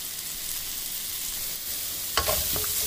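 Mushrooms stir-frying in melted butter over medium heat, a steady soft hiss of sizzling in the pan, then a few clattering stirs and scrapes near the end, close by with no voices.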